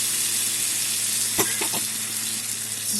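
A spice paste of melon seeds, fennel, green chillies and cumin frying in a pan for a pointed gourd curry, with a loud steady hiss and a few brief stirring clicks in the middle.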